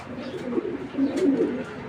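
Python breed racing pigeons at a farm give soft, throaty rolling coos in overlapping phrases, close and steady with no talk over them.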